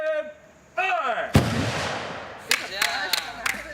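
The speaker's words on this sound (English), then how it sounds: "We got to go and fire a cannon." A historic cannon fires at Yorktown with one sharp, loud boom that rolls into a long fading rumble, followed by several smaller cracks; voices are heard before the blast.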